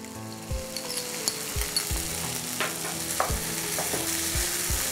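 A curried beans pasta mixture with tomato ketchup being stirred in a pan, soft sizzling under repeated dull knocks of the spoon against the pan, several irregular strokes close by.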